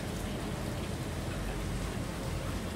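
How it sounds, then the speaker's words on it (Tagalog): Heavy rain from a passing typhoon pours down steadily in a hard, even wash of noise with no pauses, no voices over it, and no thunder. "Ang bagyo yan."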